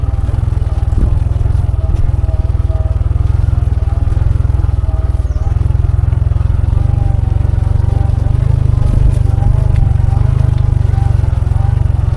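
A farm tractor engine drives past on a rural village road, a loud, continuous low rumble and chug that stays close and steady throughout, with faint rattling on top.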